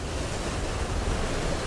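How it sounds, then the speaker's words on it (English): Wind-driven waves on Lake Nipigon surge and wash continuously, a loud broadband roar with steady gusting wind noise and no pauses. "you can hear the waves"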